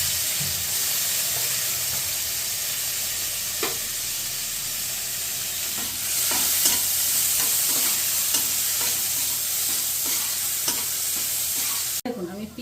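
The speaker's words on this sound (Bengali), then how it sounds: "পেঁয়াজটা আমার বেশ সুন্দর লাল লাল করে ভাজা হয়ে গেছে" Chopped onion with dried red chilli and black cumin frying in hot oil for a homemade kachki fish chorchori, a steady loud sizzle broken by repeated scraping stirs of a spoon in the pan.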